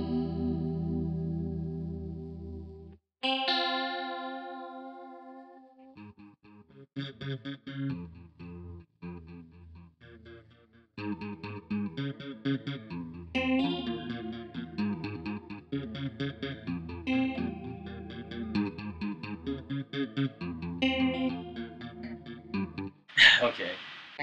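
Electric guitar through a Danelectro Cool Cat DC-1 chorus pedal, swirling chorused chords and picked melodic lines played continuously at moderate level, ending in a brief noisy burst.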